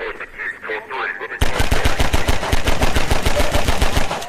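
Half-Life 2 gunfire breaks out after a short stretch of speech: a loud, fast, steady stream of automatic shots, close and continuous until the clip ends.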